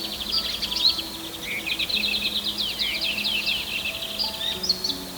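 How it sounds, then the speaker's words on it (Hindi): Birds chirp and trill in quick, high twittering runs during a morning in Mukteshwar, moderately close and continuous over a faint outdoor background. "चिड़ियाओं की आवाज सुनाई दे रही है चहचहाने की"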